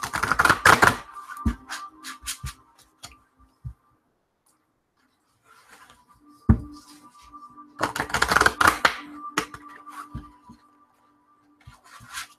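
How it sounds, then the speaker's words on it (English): Oracle cards shuffled by hand for a card reading: quick riffling and flicking of card stock in two dense bursts, with scattered soft taps and slides between them and a quiet gap in the middle. "I just want to get a good shuffle in"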